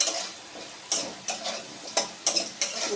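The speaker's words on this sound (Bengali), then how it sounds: "এবার আমি পটলগুলো ভেজে দেবাই" Pointed gourd sizzles in hot oil left from frying potatoes, with a utensil stirring and clicking against the pan every half second or so.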